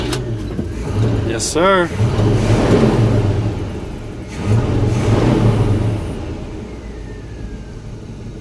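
An abandoned Chevy squarebody pickup, left sitting 23 years, cranks briefly with a whirring starter, then catches and revs in loud surging bursts before settling, with a short spoken reply at the start.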